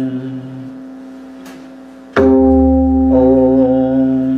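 A pakhawaj drum rings out with its deep, pitched om tone: a lingering resonance, then a firm stroke midway that blooms into a louder, sustained hum, alone and close.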